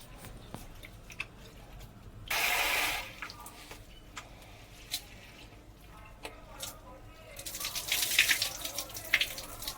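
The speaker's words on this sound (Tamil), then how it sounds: "நல்லா ரெண்டுத்தையும் சேர்த்துட்டு வாஷ் பண்ணி எடுத்துக்கோங்க" Rice and moong dal being washed in water for sweet pongal, with soft swishing and dripping, then two louder bursts of running tap water, one near the start and one near the end.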